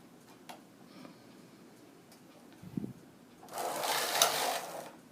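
A sock-knitting machine carriage runs across a row of stitches in a quick, bright mechanical rush, preceded by soft ticks and a brief thump.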